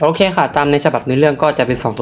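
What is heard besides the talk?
None of the usual background noises is heard.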